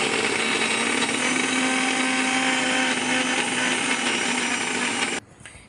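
A mixer grinder runs steadily for about five seconds, grinding edible gum (dink) for dry-fruit laddoos, with a loud, even whirring motor whine that cuts off abruptly near the end, leaving quiet room noise.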